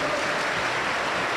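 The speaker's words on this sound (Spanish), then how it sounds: "Un fuerte aplauso para el Señor." A church congregation applauds in praise during a service, a steady, even wash of many hands clapping that holds at constant loudness for the whole brief moment, with no voices standing out.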